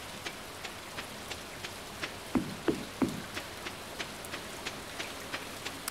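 Steady rain falls in the Stardew Valley farming game, a soft continuous hiss with regular light drip ticks and a few louder close splats near the middle, with no voices.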